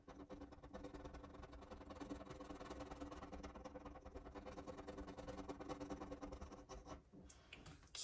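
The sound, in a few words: scratching a scratch-off savings challenge card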